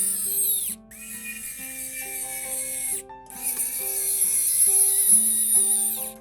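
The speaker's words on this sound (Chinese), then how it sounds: "然后左边这个拧在塑料里面的螺丝" A screwdriver drives a screw into the plastic shell of a Nintendo Switch Lite handheld console, giving close, small ratcheting and turning clicks with brief pauses between turns.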